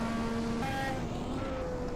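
A 1986 Formula One race car at Brands Hatch in a racing game, its engine note dropping in steps as it downshifts into a right-hand bend. The engine is moderately quiet and heard alone.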